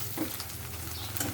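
Ginger paste frying in a pan for Bengali egg bharta, a steady close sizzle with faint stirring scrapes, a brief continuous hiss with no voices.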